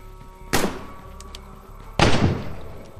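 Two sharp gunshots from a sniper rifle in the video game State of Decay, each a loud crack with a short decaying tail, about one and a half seconds apart.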